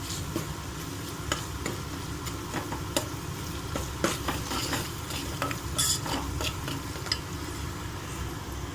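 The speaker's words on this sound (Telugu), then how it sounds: "ఇప్పుడు అల్లం వెల్లుల్లి పేస్ట్ వేసుకుందాము." Ginger garlic paste frying in a pan for egg fried rice, with a steady sizzle under continual stirring and scattered clinks of a spatula against the pan, close and fairly even throughout.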